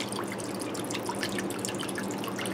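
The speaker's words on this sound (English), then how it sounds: "I'm going to dump the rest of my beef broth in here, which is about 3 cups." Beef broth, about three cups, pours steadily into a pan for onion gravy on hamburger steaks, a close, continuous splashing trickle with scattered drips and no talking.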